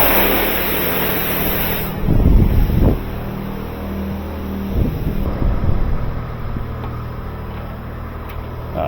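High-pressure arch in an automatic car wash spraying water, a loud steady hiss and rush of spray with a few heavier splashing bursts, close and continuous.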